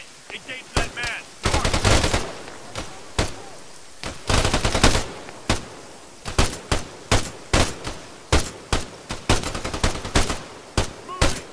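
Gunfire in the military shooter game ARMA 3, with sharp, loud shots and short automatic bursts cracking in irregular clusters. Brief radio-style voices are heard early on.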